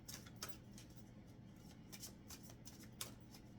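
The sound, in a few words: shuffling oracle cards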